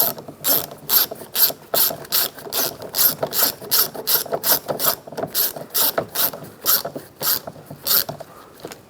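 Ratchet tool rapidly clicking while snugging up the screws on a 2011-2015 Chevrolet Cruze driver's side mirror, a close, steady series of short bursts with brief pauses between strokes.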